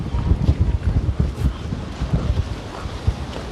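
Wind buffets the microphone at Bang Pu seaside resort, a loud, gusty low rumble that rises and falls continuously, close and rough throughout.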